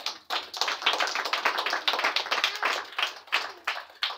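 A church congregation claps together in acclaim of God, a loud, steady, rhythmic run of sharp hand claps at close range with no talking over it.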